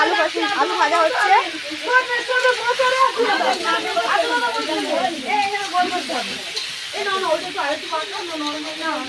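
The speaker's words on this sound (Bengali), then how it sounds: "এখানে মাংসের জন্য আলু ভাজা হচ্ছে।" Potatoes frying in oil for a picnic meat curry give a steady hiss and crackle that runs under nearly continuous nearby chatter from several people.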